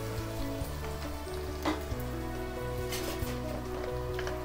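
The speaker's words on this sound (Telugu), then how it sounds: "వేగింది, చక్కగా వేగింది అల్లం వెల్లుల్లి పేస్ట్" Ginger garlic paste sizzling and frying steadily in a pan for a fish curry, a continuous close crackle with a few sharper pops and no talk.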